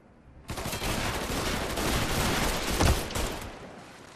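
A newly picked-up gun fires in Mafia 3 gameplay, a loud, close, continuous burst of rapid shots lasting about three seconds before cutting off.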